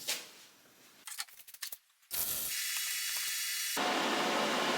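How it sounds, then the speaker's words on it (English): Spot welding on a steel stair tread produces harsh crackling and hissing, first a choppy burst of sputter and then a sustained loud buzzing arc that keeps going to the end. "if I put my first spot weld over here, just the heat of that spot weld will take and lift this back corner up for me"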